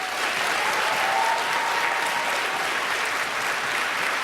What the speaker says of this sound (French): Oh, les voilà, on les applaudit!